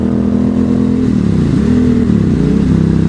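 An Aprilia Dorsoduro motorcycle's V-twin engine runs close by, loud and steady at idle with a rumbling, pulsing tone and slight shifts in pitch, alone without any talk.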